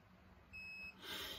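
A single short, thin electronic beep from a Topeak D-Torq torque wrench sounds close by against a quiet background, followed by a brief hiss of noise.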